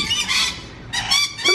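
Goose-like birds visiting outside a home honk loudly and close by in several overlapping bursts, with harsh nasal calls separated by a brief gap, heard alone without talking.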